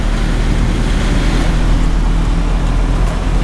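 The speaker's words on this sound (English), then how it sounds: "Just driving and we just see all this water running down the road." A car drives along a flooded road in Kenya, rumbling with a continuous low roar and watery rushing beneath it, loud and steady throughout, no voices.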